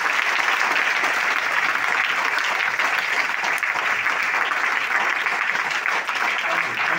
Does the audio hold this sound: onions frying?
no